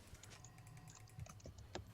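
Quick clicks of a computer keyboard being typed on during a League of Legends game, irregular and close, over a low steady hum.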